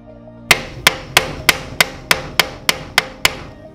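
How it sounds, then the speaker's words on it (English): Ten sharp metallic ball peen hammer strikes peening a rivet on a vise anvil, evenly spaced in a steady rhythm, loud and close with no talking. "use the anvil on my vise and a ball peen hammer to peen the rivet"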